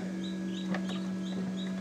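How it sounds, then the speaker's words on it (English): Faint high chirps and peeps from newly hatched chicks in a Nurture Right 360 incubator come in a few short bursts over a steady electrical hum. "All right, so the chickens hatched"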